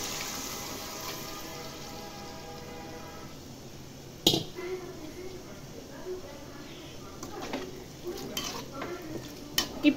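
Oil and gravy poured into a hot pan to finish a hotel-style mutton gravy give a steady close sizzle, with a few sharp clinks and stirring knocks near the end.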